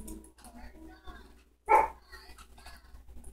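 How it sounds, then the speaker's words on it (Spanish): Pet dogs at home giving a single sharp bark midway while someone talks quietly before and after. "Ya empezaron mis perritos."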